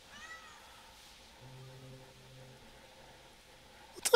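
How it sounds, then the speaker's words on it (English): A cat meowing faintly, a short rising meow at the start followed by a soft low drawn-out call, ending with a brief louder clatter close by. "What's up, kitty cat?"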